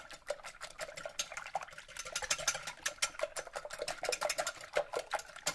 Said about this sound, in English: you want to take a whisk and mix them up really good